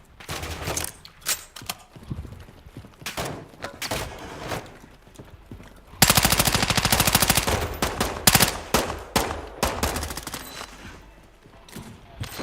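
Automatic gunfire from a DMZ video game match: scattered single shots and short bursts, then a sustained loud, rapid stream of fire in the second half, close and dominant.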